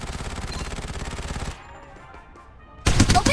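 Rapid automatic gunfire in the video game Farlight 84: a fast, loud burst of shots, a short pause with low game ambience, then another sharp volley near the end.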